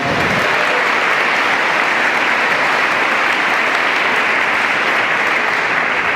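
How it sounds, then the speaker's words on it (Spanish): Loud, dense applause from a church congregation fills the space continuously, a steady wash of many hands clapping at once with no voices rising above it. "Den un aplauso a Dios, que es su Padre."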